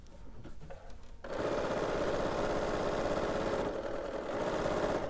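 Sewing machine stitching a fabric shopping bag, starting after a second of quiet handling and then running steadily at a constant hum with a faint dip near the end.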